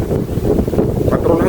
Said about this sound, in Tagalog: Pakalakas ng hangin po mga kabsat.